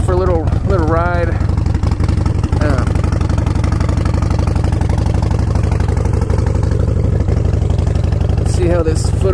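A Harley-Davidson Sportster 72 engine idles with a deep, loud, steady throb close by as the rider sets off, with someone talking over it.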